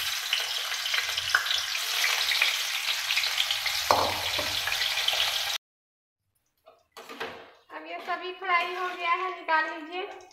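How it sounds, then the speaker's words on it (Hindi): Raw banana pieces deep frying in hot oil for a raw banana curry give a loud, steady sizzle for about five seconds. The sizzle then cuts off and a voice talks. "इस तरह का इसको डीप फ्राई कर लीजिए।"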